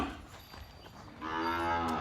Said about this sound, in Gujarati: હવે ગાયોને અંદર લેવાની છે દોવાની છે